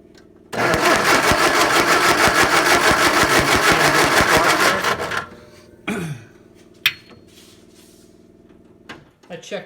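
An MGA car engine cranks and catches, then runs loud and steady with a fast, even pulse for about four seconds before shutting off. Scattered knocks and handling noises follow close by.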